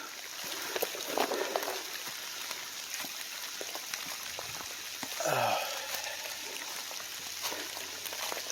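Rain falling outdoors during a rain event around an RV site, a steady broadband patter of drops on surfaces, with brief voices and movement sounds mixed in.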